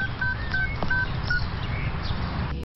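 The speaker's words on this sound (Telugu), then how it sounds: "నేను ఇప్పుడే వర్షకు ఫోన్ చేస్తాను" A phone keypad dials out on speaker: a string of short, bright touch-tone beeps at uneven intervals over a low background hum, ending abruptly.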